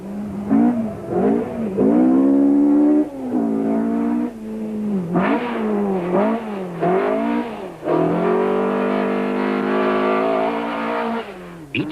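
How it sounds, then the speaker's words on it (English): Ford rally car racing through tight sandy bends on an autocross circuit, its engine loud and close, revving hard, climbing through the gears and dropping off between corners. "The Ford battles in the tight sandy bends on stage 1."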